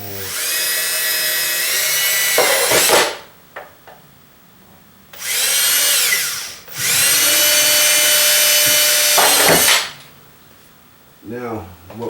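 A power drill whines at high speed in several bursts, drilling holes for a front splitter on a 2015 Dodge Charger Pursuit, spinning up and winding down between holes, with short clicks and pauses.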